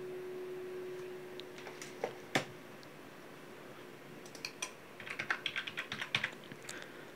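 Someone types a one-time passcode on a computer keyboard, with scattered single key clicks at first and then a quick burst of close, crisp taps over a faint, steady hum.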